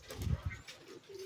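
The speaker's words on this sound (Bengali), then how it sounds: "এই খাঁচাতে যে কবুতরটা আছে এটা নর" A male pigeon coos inside a cage, low soft throaty pulses in a short close burst, followed by a quieter stretch.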